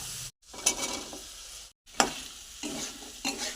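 Chickpeas and chicken sizzle in a pan while being stirred, with bursts of frying hiss and scraping stirs broken by two short silent gaps, close and moderately quiet, no speech.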